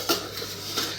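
Dishes and cutlery clink as rice and curry are served, a couple of sharp, close clatters of plates and spoons against a quiet indoor background.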